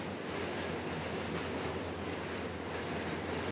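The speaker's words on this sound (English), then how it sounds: "Ooh, dang, that train is loud." A loud train rolls steadily past on its rails in New York City near the Brooklyn Bridge, a continuous roaring rumble with a few brief high metallic squeals.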